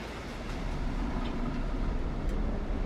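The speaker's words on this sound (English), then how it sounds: "Oh, you guys gonna need a bigger train to take on that guy." Continuous rumbling of a train in the indie video game Frost Rail, a steady low roar with faint rattling at an even level.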